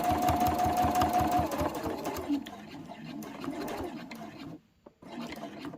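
A sewing machine runs steadily, stitching fabric for a travel cutlery holder, with a rapid even needle rhythm up close that slows and stops briefly near the end before starting again.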